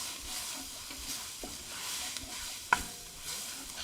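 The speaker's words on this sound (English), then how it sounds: "Give it a stir." Flour is stirred into a soup pot over the heat, giving a soft continuous sizzle with a few scraping strokes and one sharper knock of the spoon against the pot.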